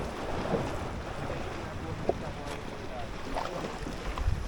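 Steady low rumble of a boat moving over water, with wind buffeting the microphone and a few faint knocks and splashes throughout.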